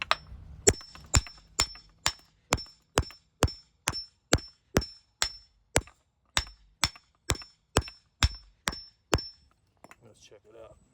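Hammer blows drive an engine mount into an aluminum piece during a 2004 Chrysler Pacifica mount replacement, about nineteen sharp metallic strikes in a steady, even rhythm, close and loud, ending abruptly.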